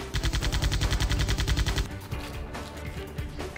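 Rapid automatic gunfire in a battle-royale-style shooting video game: a steady, loud burst of evenly spaced shots for nearly two seconds, then scattered quieter game sounds and distant thumps.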